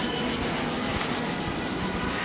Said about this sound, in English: I'm in the final touches of sanding down the coach roof